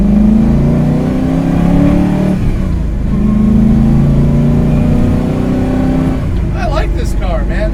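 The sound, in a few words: modified 1965 Ford Mustang engine revving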